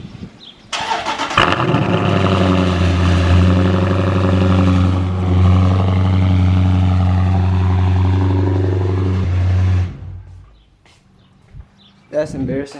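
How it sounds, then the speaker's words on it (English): A Dodge Challenger Scat Pack cranks and fires on a cold start, settling into a loud, steady, deep idle for about nine seconds before shutting off, with faint background sounds around it. "I'm gonna go start the car for y'all. Get y'all a little cold start."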